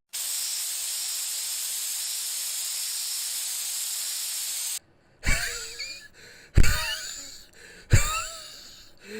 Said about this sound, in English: I'll just spray some of this rust preventer paint on it.